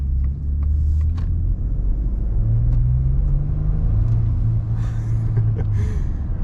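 A 2022 Ford F-150 Tremor pickup truck pulls forward from inside the cab, its engine a deep, steady low rumble that swells slightly as it gains speed, with faint cabin noises over it.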